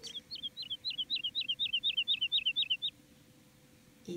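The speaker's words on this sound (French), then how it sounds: "Et ce petit oiseau-là" A small bird chirps in a rapid run of about fifteen evenly spaced, sharp tweets, clear and close, then falls silent before a brief soft rustle at the end.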